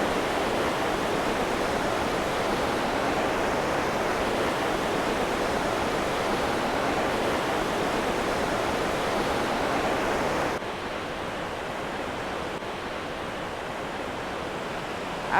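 Hidden Falls waterfall at Jenny Lake in Grand Teton National Park roars as a steady, loud broadband rush of falling water, close and unbroken, easing slightly softer for the last few seconds.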